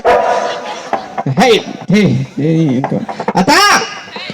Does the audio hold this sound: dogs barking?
yes